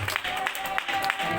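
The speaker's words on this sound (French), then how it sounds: "Bon, ajoute les acclamations maintenant." A church congregation breaks into applause and cheering for the Lord, a dense wash of clapping and voices that holds steady through the short stretch.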